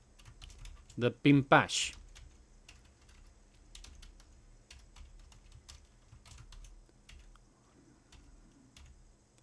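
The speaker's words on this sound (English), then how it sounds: "Today my typing is terrible" Quick keystrokes on a computer keyboard in a hacking lab session, a short burst of clicks after a spoken phrase, then sparse faint taps over a quiet background.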